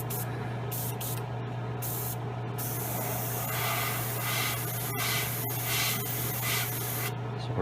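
An airbrush sprays paint onto an Italeri 1/35 Leopard 2 model kit, with short bursts of hiss giving way to a more continuous spray in the middle, close and moderately quiet.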